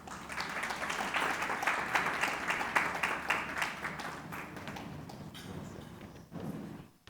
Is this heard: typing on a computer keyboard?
no